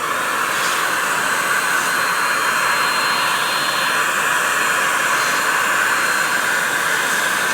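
A Metro DataVac electric duster blower runs close by with a loud, steady high-pitched whine and a broad rushing airflow that holds constant throughout, with no talking.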